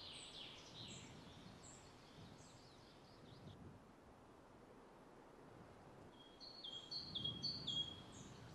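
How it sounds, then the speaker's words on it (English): Birdsong in a game audio ambience, thin high chirps and trills in short bursts at the start and again near the end, fairly faint over a soft airy wind and surf bed. "I think the birds are the things that are causing the issue."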